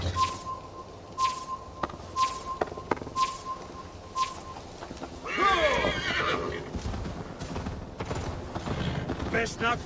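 A horse in the Viking-era game Assassin's Creed Valhalla, with repeated clopping hoofbeats early on, followed by a loud, close, wavering neigh and continued movement, with game voices talking at times.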